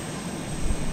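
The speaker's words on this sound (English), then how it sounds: "I turned the plane on. I hit Q, and it turned on. Like, the noise kicked off in my ear" A plane engine in the DayZ video game roars steadily at close range, a dense, loud drone filling the whole short moment.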